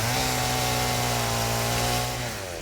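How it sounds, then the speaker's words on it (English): Chainsaw in the video game Satisfactory cutting down trees, a steady loud motor drone with a sustained buzzing tone that holds for a few seconds, then eases slightly at the end. "I should probably chainsaw some more of these as well"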